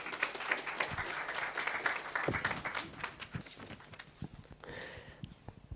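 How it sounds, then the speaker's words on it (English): A small audience at an industry breakfast gathering claps for a speaker, a moderate patter of hands that is fairly full at first, then grows sparser and quieter, with some scattered individual claps near the end. "We can clap hands for Mr."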